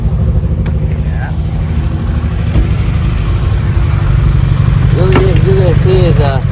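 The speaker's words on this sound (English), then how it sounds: "This one have a slightly misfire in it. You can hear it." A Subaru WRX turbo engine idling with a slight misfire on cylinder 3, its low steady rumble loud and near, with faint irregular unevenness, while people talk briefly over it.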